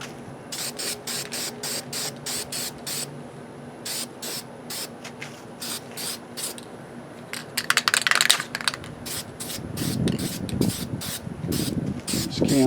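Spray paint can hissing over stencils in repeated short bursts, close by, with small rustles and handling noises between sprays and some louder scraping toward the end.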